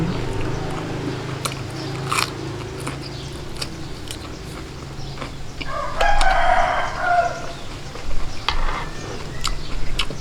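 A rooster crows in the distance over steady background noise and occasional clinks, the crow rising briefly midway.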